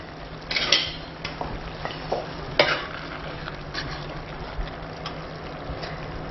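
Crayfish tails with a coriander sauce in an AMC pan: sharp metallic clinks and scrapes of a utensil stirring against the pan over a soft, steady sizzle, close and intermittent, with no talking.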